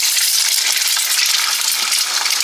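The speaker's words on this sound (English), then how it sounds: "Now let's get that egg fried. I'm just going to fry it in the same oil." An egg frying in hot oil in a pan gives a steady, loud, close sizzle with a continuous crackling hiss and no talk.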